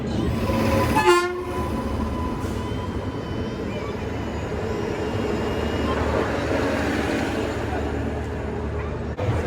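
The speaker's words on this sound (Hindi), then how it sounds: "उधर ट्रेन भी आ गई है" A train arrives at a station in India and sounds a loud horn blast early on, followed by the steady rumble and clatter of the rolling cars amid ambient crowd noise.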